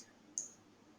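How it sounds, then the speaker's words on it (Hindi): A single sharp computer mouse click on a save button, brief and crisp, against quiet room tone, with no speech. "डालने के बाद सेव पे क्लिक कर देंगे।"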